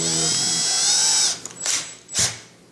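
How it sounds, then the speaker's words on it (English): A small drill bit whines steadily for over a second drilling leather for an axe sheath button, then stops; two short bursts of drilling follow, close up, with no talking. "take a little tiny drill bit"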